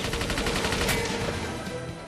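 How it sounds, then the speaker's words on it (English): Rapid machine gun fire rattles during a speedboat chase in the 1999 film The World Is Not Enough, dense repeated bursts at close range over a loud churning boat and score backdrop. "Driving straight into machine gun fire, smart."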